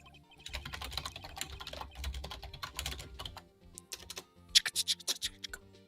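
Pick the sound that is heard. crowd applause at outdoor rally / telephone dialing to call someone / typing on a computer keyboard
typing on a computer keyboard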